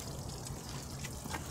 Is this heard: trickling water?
yes